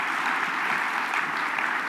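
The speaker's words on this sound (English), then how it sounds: "Give them a round of applause." Audience at a sustainability summit in Denver applauding, a steady, dense wash of clapping that holds evenly for the whole short stretch without speech.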